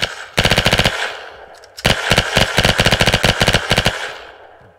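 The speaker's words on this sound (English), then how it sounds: "Why does the guns have to be so loud?" Loud rapid automatic gunfire from the Roblox game Flag Wars, two sustained bursts of fast repeating shots with a short gap between, close and alone with no talk.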